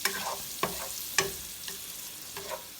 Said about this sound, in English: We're going to let these onions saute down for just a bit before we add the garlic.